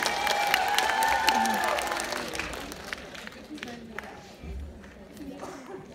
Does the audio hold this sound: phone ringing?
no